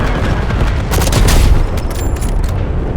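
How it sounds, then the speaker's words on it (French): Napalm incendiary munitions from an airstrike in Black Ops 7 explode in a loud, dense roar of crackling blasts and rumbling booms, continuous throughout without speech. "Munitions incendiaires larguées."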